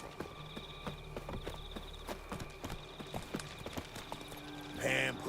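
Roach the horse galloping in The Witcher, hooves clip-clopping in a quick steady rhythm close by, with a brief burst of other game noise near the end.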